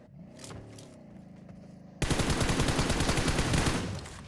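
Video game gunfire: after a quieter stretch of faint clattering, a loud burst of rapid automatic fire starts abruptly and keeps going for about two seconds as a dense, close stream of shots, with no talking.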